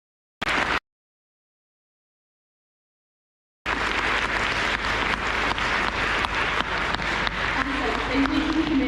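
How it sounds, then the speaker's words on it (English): Audience applause at a Veterans Day ceremony in Bradford: a brief burst of clapping, a pause, then sustained loud clapping from a crowd that carries on steadily to the end. "Please join me in a round of applause for all of these individuals."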